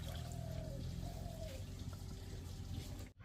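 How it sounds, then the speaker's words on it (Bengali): Fish being washed under lukewarm running water in a home kitchen, a steady close pour and trickle running on without pause until a brief dip at the end. "মাছটাকে ভালো করে ধুয়ে নিতে হবে হালকা উষ্ণ গরম জল দিয়ে"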